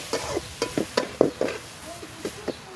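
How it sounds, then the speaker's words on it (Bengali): Stirring water spinach in a pot over a clay stove on a rooftop, a dozen or so short scraping, sizzling strokes in an uneven rhythm, close and fairly clear. "আমি ছাদে আইসা রান্না করতেছি ওদের জন্য মাটির চুলায়"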